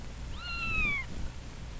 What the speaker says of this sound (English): Robin and Billy hear a loud mewing